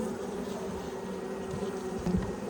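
Calm Saskatraz honey bees hum in an open hive, a low, steady buzzing close by with a few slightly louder passes near the end.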